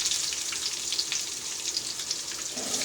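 Onions drop into a hot pan where chana dal is already frying, giving a steady close sizzle with light crackles and no voices.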